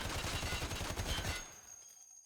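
Ash 12 rifle in Escape from Tarkov firing full auto at 25 meters with no recoil control, a loud dense burst of rapid shots for about a second and a half, then a fading echo tail.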